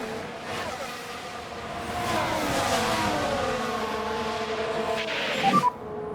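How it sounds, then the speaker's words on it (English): Formula One race cars in the F1 Manager video game, a continuous close engine roar with rising and falling revs as cars battle for position, ending in a brief sharp squeal. "that's why we're seeing Lewis Hamilton try to get past Danny Rick"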